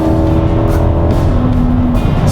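An Infiniti QX80 luxury SUV passing vehicles on the road gives a loud, steady interior drone of engine and road noise with a sustained engine tone, heard close and alone.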